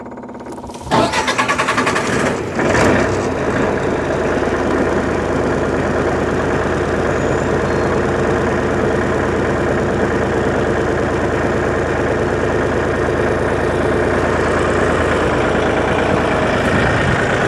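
A military MEP 1040 generator engine cranks and catches, then runs on its own, settling into a loud, steady, even drone that stays close and constant for the rest of the stretch.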